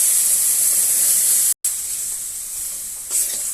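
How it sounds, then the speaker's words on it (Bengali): Spice paste fries in a hot kadai with a loud, steady sizzle, close and continuous, broken by one brief cut and a small flare of hissing near the end. "মশলাটাকে ভালোভাবে ভাজতে হবে, নইলে কাঁচা গন্ধ করবে এটাতে।"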